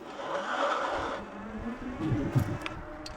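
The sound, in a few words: Wired Freedom electric bike tires spinning to heat them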